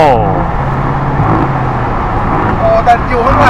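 A Bentley Continental GTC being driven in Scotland, its engine giving a steady low rumble that holds through the whole stretch, with voices talking over it inside the car.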